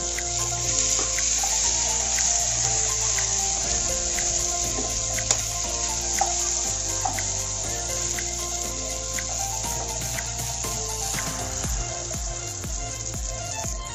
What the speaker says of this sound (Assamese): এতিয়া আমি কাজু দিম কাজু কিচমিচ যিখিনি আমি তিয়াই থৈছিলোঁ সেইখিনি আমি দি দিম